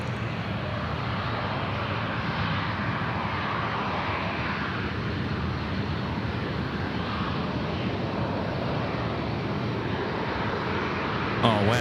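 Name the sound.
airliner jet engines at Sydney Airport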